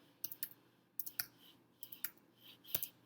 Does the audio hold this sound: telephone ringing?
no